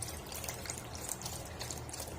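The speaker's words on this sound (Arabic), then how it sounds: "هننزل باللبن او الحليب زي ما بيقولوا" Milk pours into freshly boiled, washed rice for creamy rice pudding, a soft continuous liquid stream heard faintly and steadily at close range.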